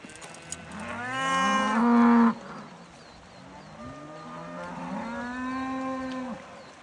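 Cattle lowing repeatedly during a cattle drive as the herd heads down a pond dam, long drawn-out moos overlapping from several animals, fairly close and loud, with no talk.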